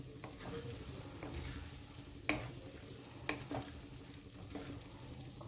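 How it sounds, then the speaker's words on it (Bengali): Boiled vegetables for pav bhaji are stirred into fried spices in a pan over a low flame. A quiet, steady sizzle runs under repeated scraping strokes and occasional utensil knocks. "দিয়ে এবার ভাজা মশলার সাথে মিশিয়ে নেব।"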